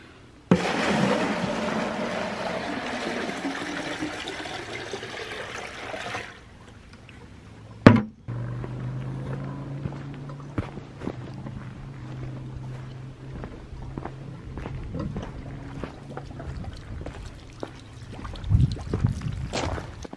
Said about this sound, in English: I'm gonna put the water back in here and see how well a good drive pipe works on the same pump